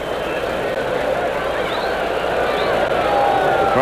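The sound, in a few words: quiet baseball stadium crowd of Cardinals fans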